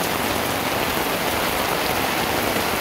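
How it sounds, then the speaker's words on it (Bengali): A steady, dense downpour drums on surrounding surfaces in Gazipur's Mawna, an unbroken close wash of rain with no pauses or speech. "বৃষ্টির ভালো লাগছে"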